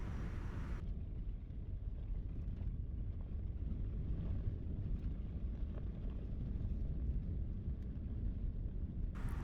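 At night in the Watagans, outdoor wind buffets the microphone as a continuous low rumble for the whole stretch, with no voices.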